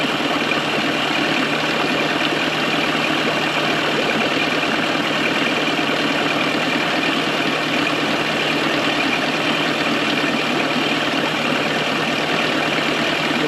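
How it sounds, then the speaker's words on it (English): An old outboard boat motor idles steadily and loudly, a constant even running drone with no change in pace and no talk. "The motor's actually not running too bad."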